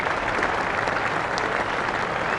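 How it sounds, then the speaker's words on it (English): Cricket players and spectators at a Birmingham test match against England applauding a fielding effort, a loud, even roar of clapping from a large crowd, continuous across the whole stretch. "Applause from the players and from the spectators for a wonderful effort."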